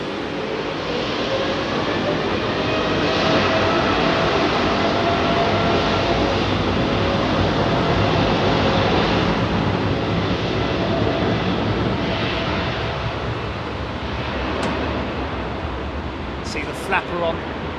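Aircraft engines spool up at Heathrow in foggy conditions, a steady broad roar held at a high level throughout, with a few faint high whines near the end.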